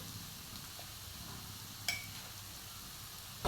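Sliced onions sauté in a pan with pepper powder, a faint, steady sizzle throughout with one brief sharp clink near the middle and no voices.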